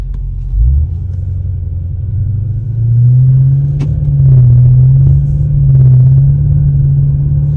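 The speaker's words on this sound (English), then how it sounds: "And now starting up the vehicle, it's down here. And driving" A 2014 Audi RS7 engine fires up with a low rumble, then settles into a steady, smooth hum as the car pulls away and cruises, close and loud.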